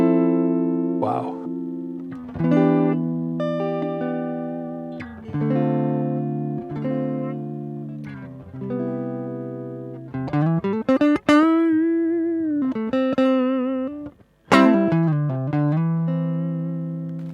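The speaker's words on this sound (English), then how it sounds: "So Anthony, now we are connect the guitar directly to the console, right? Yep. And this is like a clean sound" A clean electric guitar plugged straight into an SSL Origin mixing console plays a run of plucked single notes and chords with ringing sustain and a few bent, wavering notes, clear and close with nothing else underneath.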